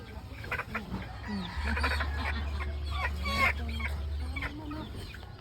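Many chickens cluck and squawk together close by, a busy overlapping chorus of short calls with a steady low drone behind.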